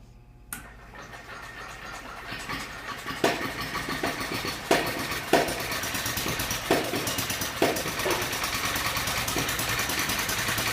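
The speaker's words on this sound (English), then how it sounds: "So the motor is running on its own now. The starter motor is not working any longer." A workshop glass engine keeps running on its own once its starter motor is cut, giving a steady mechanical chugging with several sharp clicks or knocks at uneven intervals.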